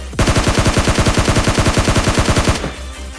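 Rapid automatic gunfire in the mobile battle royale game PUBG Lite, a loud sustained burst of evenly spaced shots lasting over two seconds before cutting off, with no talking.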